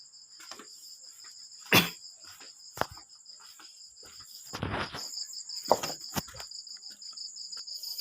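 A large rattan kite hummer with a 190 cm bow gives a steady high-pitched drone, broken by a few sharp knocks and handling thumps, with no talking.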